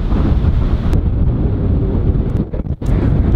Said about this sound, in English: Not looking good now, it's too windy.